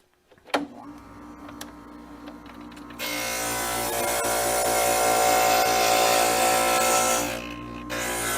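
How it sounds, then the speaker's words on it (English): A glass grinder shapes a piece of leaded glass for a solar lantern planter: a motor hums quietly, a tap sounds, then a loud gritty grinding starts and holds for several seconds before easing off. "So I'm going to take a little bit of a grind right back here."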